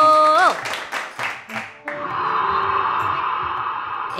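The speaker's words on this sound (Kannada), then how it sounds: "ಸಿಕ್ಕಾಬಟ್ಟೆ ಚಪ್ಪಾಳೆ ಮೂಲಕ ಅವರನ್ನು ಬರಮಾಡಿಕೊಳ್ಬೇಕು" Applause from a studio audience welcomes a guest on a Kannada political satire comedy show, a steady wash of clapping filling the second half after some brief speech and musical tones at the start.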